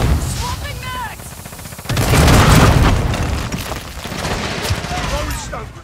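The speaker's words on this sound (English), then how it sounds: "Stun grenade! Out!" Call of Duty Modern Warfare 2 multiplayer on PS5: a stun grenade goes off with a loud booming burst, surrounded by gunfire and battle noise, with shouted callouts from the player character.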